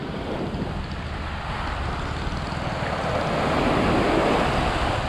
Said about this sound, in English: Well, the water's certainly a bit blustery today.